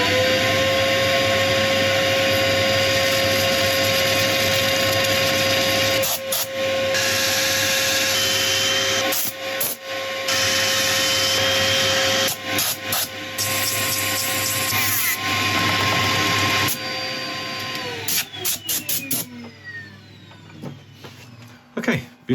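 Wood lathe spinning a woodturning project during sanding, a continuous loud whirring hum with steady tonal drone and scraping texture, winding down to silence as the machine stops near the end.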